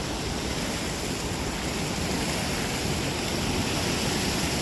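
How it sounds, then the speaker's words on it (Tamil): Water rushes out through a sluice gate with a loud, continuous roar that stays steady and dense throughout, with no voices. "தண்ணி மதகு வழியாக வெளியில் வர்றது சவுண்டு அப்படியே காதை கிழிக்குது"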